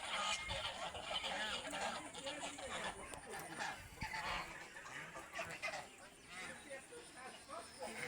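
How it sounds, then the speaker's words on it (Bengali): A flock of domestic geese on a village farm honks loudly and continuously, overlapping calls from many birds close by while some feed and others rest. "দেখতে পাচ্ছেন এগুলো রাজহাঁস।"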